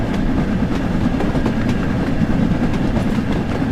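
A steam train in Train Sim World 5 runs at about 24 miles an hour, giving off a steady, loud, close rumble with continuous rail clatter and no pauses.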